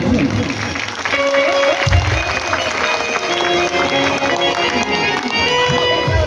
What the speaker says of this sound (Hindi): जोरदार ताली तो बजना।